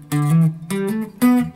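Guitar notes plucked in three short phrases, bright and close, with a steady picked rhythm and no strumming, no voices.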